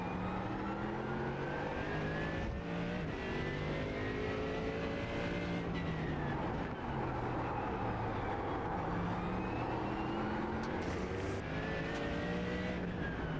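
A GT3 race car engine in a video game, at Oran Park, roaring continuously with rising and falling revs and gear changes, loud and steady throughout.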